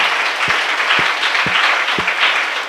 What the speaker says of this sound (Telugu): సంతోషంగా ఉన్నవారు గట్టిగా చేతులు పైకెత్తి చప్పట్లు కొట్టాలి